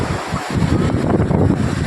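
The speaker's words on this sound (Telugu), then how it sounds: "అలలు వస్తూ ఉంటాయి." Sea waves wash onto a shore, carrying silt and mud with them, as a continuous close, loud roar mixed with heavy wind buffeting the microphone.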